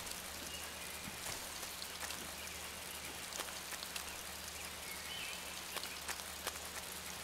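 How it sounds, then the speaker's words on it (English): Rain falling in the jungle of Metal Gear Solid 3, a constant quiet hiss of drops with scattered sharper patters and drips, with a low steady hum beneath and no talking. "It's all wet and rainy over here."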